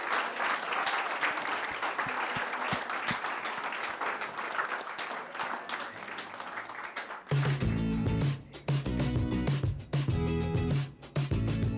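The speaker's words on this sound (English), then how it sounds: "Round of applause." An audience at an evening event claps in a full round of applause, a dense steady roar of many hands that swells louder partway through and runs on without pause.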